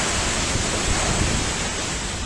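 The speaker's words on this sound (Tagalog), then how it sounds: "Dinig ang malakas na sipol ng hangin." Strong wind from a tornado roars steadily and loudly in Bacolor, Pampanga, buffeting the microphone in a constant dense rush with no pauses.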